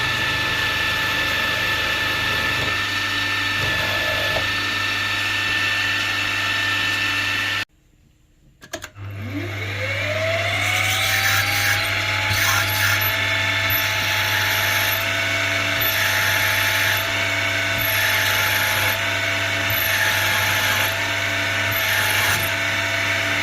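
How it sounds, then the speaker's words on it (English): A power drill boring into metal for a model steam boiler injector whirs steadily with a grinding mechanical tone, cuts out briefly, then spins back up and runs continuously. "put the drill through"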